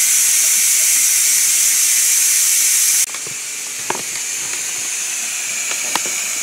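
A multi cooker vents its pressure in a loud, steady hiss of escaping steam that cuts off sharply, leaving a quieter background with a few small clicks and knocks.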